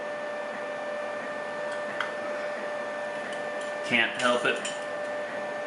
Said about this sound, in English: the 3D printer is running in the background.